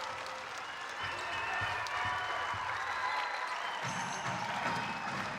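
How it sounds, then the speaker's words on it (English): A basketball arena crowd at the Chiles Center gives a sustained ovation at a women's basketball game, with steady dense applause and cheering throughout and a swell of crowd noise near the end. "Getting a beautiful ovation from the Chiles Center"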